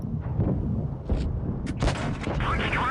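IS-3 tank cannon firing in a tank battle video game, booming shots with sharp cracks heard over a steady engine rumble and ongoing speech.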